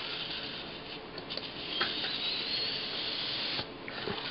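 Air is blown through a needle hole to push the contents out of an egg, making a steady, close, breathy hiss that runs unbroken with slight fluctuations.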